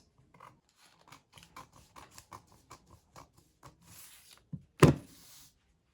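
Scissors cutting out the front piece of a basic skirt pattern, a steady run of close, crisp snips in even rhythm, ending with a louder sharp clack.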